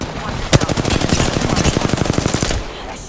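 Rapid automatic gunfire in the video game Apex Legends rattles off in a loud, steady burst of evenly spaced shots lasting about two seconds. One sharper crack opens the burst.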